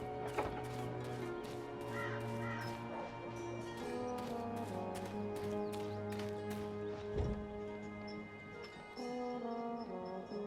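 Crow-like cawing in the video game Dreamfall Chapters, heard as several sharp calls set against a steady musical and ambient game backdrop with rhythmic clip-clop hoof sounds, moderately loud and with no talking.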